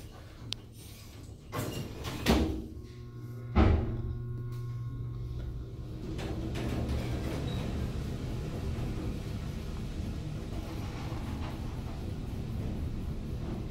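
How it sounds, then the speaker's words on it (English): Montgomery G&P traction elevator door at a hospital sliding shut, with a couple of clunks and a rumbling slide early on, followed by a steady mechanical hum from the car. "Door closed when you press the buttons sometimes."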